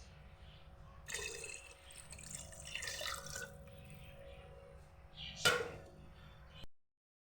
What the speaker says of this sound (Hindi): यहाँ पे मैं अब इसमें पानी शामिल कर रही हूँ